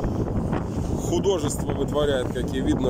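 Steady wind roar buffets the microphone in gusts while someone talks over it, with a faint hiss of choppy water beneath, on the Amur River in a strong downstream wind with stormy waves.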